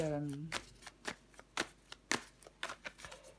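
Tarot cards are handled and laid down on a table in a rapid series of soft, papery slaps and shuffles, close by, beginning under the tail of a spoken word.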